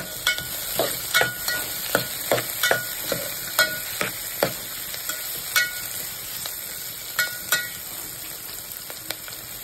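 Sausages fry in a pan under a steady, close sizzle, broken by a run of sharp clicks and scrapes from stirring, with no talking.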